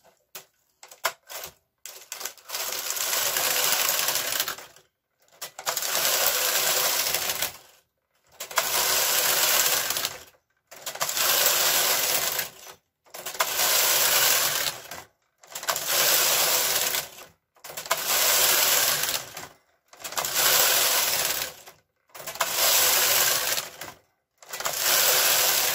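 Bursts of a knitting machine's carriage sliding back and forth across rows of stitches, each pass a loud rattling whir of about two seconds, separated by short pauses in a steady rhythm.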